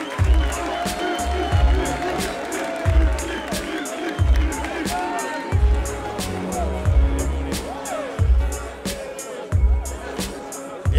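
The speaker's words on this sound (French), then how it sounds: "un tonnerre d'applaudissements pour l'Unique Griot" A rap battle audience cheers and whoops over a thumping beat with heavy rhythmic bass hits, with scattered claps and excited shouts mixing into a noisy crowd roar.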